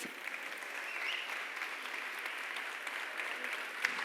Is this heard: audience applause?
yes